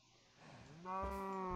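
A cow in the Minecraft video game gives one clear, drawn-out low moo that swells in the second half, heard alone with no talk.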